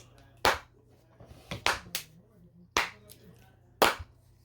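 A few sharp, separate claps ring out at irregular intervals, loud and close, with quiet room sound between them.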